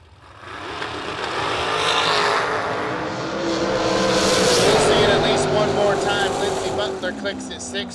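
Dragster racing down a drag strip at a motorsports event, a loud engine roar that swells from quiet to a sustained blast and then fades, with a broad rushing quality.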